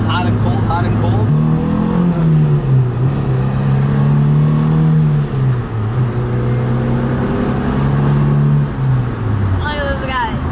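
A Honda Civic with a K20 engine, untuned, hums steadily from inside the cabin with windows open, its engine note rising and falling as it pulls, while people talk over it.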